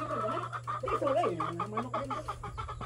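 Several chickens cluck and chatter close by, overlapping calls in a busy barnyard with turkeys, a steady low hum underneath.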